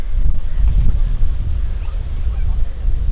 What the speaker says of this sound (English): It's pretty windy, so I'm not gonna go in